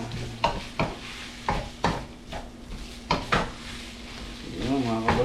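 Onion and ground pork sautéing in a pan for ginisang pechay, with repeated sharp scrapes and stirs of a utensil against the pan over a steady low sizzle, close and fairly loud.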